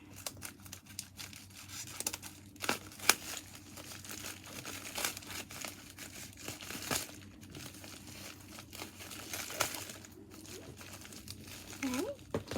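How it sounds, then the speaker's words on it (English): New scissors cut through crinkly plastic packaging from a haul parcel, giving irregular snips and crumpling rustles, close and fairly quiet, with a voice speaking in the background. "Let's try the new scissors."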